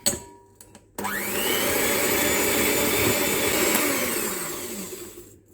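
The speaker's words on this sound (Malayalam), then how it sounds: "അപ്പോൾ നമുക്ക് ഇതൊന്ന് ബീറ്റ് ചെയ്തെടുക്കാം." An electric whisk beats egg yolks for a tres leches cake, switching on abruptly after a few faint clicks and whirring at a loud, steady pitch for several seconds before winding down.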